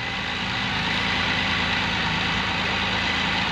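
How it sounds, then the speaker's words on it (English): A Can-Am Spyder three-wheel motorcycle idles steadily, a constant close engine rumble with an even low pulse and no talk, unchanging from start to finish. "So you hear the bike idling like a champion."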